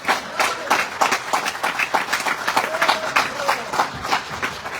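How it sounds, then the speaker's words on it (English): An audience in a council chamber stands and applauds, a steady, dense clapping from many hands that keeps an even intensity throughout, fairly close, with some voices mixed in. "Everyone in the chambers is standing up. Even disabled people are applauding."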